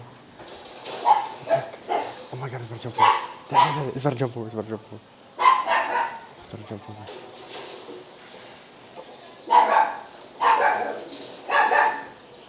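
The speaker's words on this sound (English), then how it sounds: "Look at that dog." Dogs, including Shiba Inus, bark and yip in short bursts close by at a crowded open-air pet market in China, with excited voices talking throughout and over the barking.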